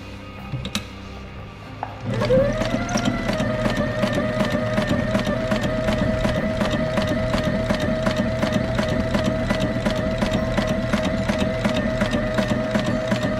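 A sewing machine stitches fabric for a sailboat hatch screen cover, starting after a brief clunk and then running steadily with a fast, even mechanical chatter close by.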